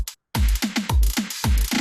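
A punchy GarageBand electronic drum kit loop: booming kicks and crisp hits in a steady, fast pattern after a short gap, loud and dry.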